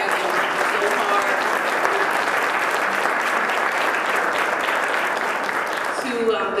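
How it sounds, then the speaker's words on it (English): An audience applauds for Karen at a Greater Newark event, giving a loud, sustained round of many hands clapping that holds steady throughout, with a voice starting up near the end. "let's give a big shout out and a round of applause for Karen"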